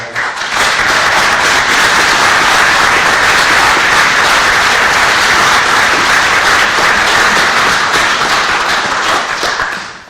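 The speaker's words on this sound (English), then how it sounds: "A round of applause." An audience at a Hidden Heroes celebration gives a loud, sustained round of applause. Dense clapping fills about ten seconds and fades at the end, with no voices over it.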